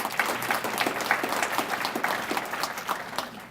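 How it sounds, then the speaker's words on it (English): An audience at a community event applauds school bus drivers with steady, dense clapping from a moderately sized crowd lasting the whole stretch. "a round of applause for them"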